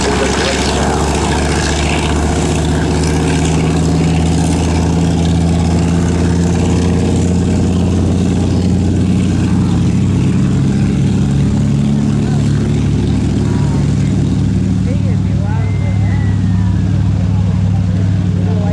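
A 1,700-horsepower Wright Cyclone 14-cylinder radial engine on a TBM Avenger runs before takeoff at an air show, a loud, steady, throbbing drone held for the whole stretch, with a voice faintly under it.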